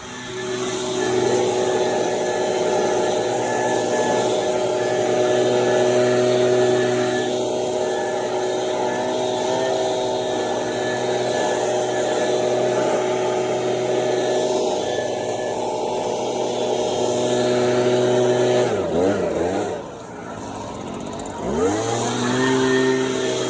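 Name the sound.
leaf blower blowing out landscaping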